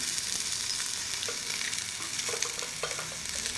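Ground spices sizzling and being stirred in a frying pan for an okra and egg curry, a continuous soft crackling fry with faint scraping strokes, no talk.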